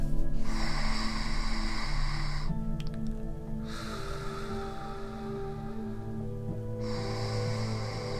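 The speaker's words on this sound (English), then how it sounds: "let's go ahead and take a few deep breaths" Slow, deep breaths drawn in and let out in long, airy waves, three broad whooshes in a row with short pauses, set over a steady soft musical drone.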